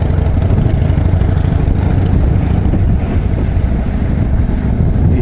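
Harley-Davidson motorcycle being ridden on a sunny day, a loud, continuous low engine rumble with steady wind roar and no voices.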